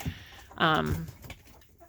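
Chickens in a coop let out one drawn-out, nearby clucking call that stands out above quieter background sounds and faint talk.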